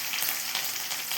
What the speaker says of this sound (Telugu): ఇలా వేగిన తర్వాత ఇదిగోండి కరివేపాకు